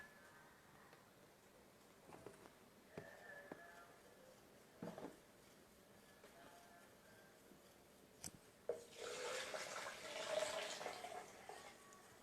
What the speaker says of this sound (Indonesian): tinggal kita tambahkan air sedikit-sedikit